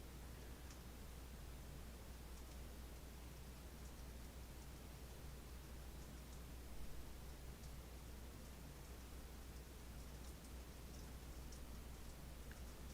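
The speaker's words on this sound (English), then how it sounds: "Can you hear the rain?" Rain falls outside in a continuous soft wash of noise, faint and far off, with occasional light drip ticks and no talking.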